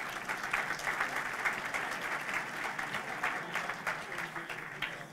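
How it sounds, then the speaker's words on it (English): Audience applause at the San Buenaventura 2017 State of the City address, steady dense clapping from a room full of people, continuous and moderately close, with no talk over it. "Let's give the Chief a round of applause."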